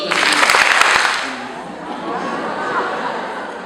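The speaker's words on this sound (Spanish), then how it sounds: "Y si aplaude dos veces." An audience at a literature course session gives a short, loud burst of clapping in the first second, then it quickly thins out into quieter scattered claps and faint murmuring.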